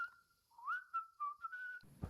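Someone whistles a short, wavering melody of several sliding notes close to the microphone, ending with a brief soft thump.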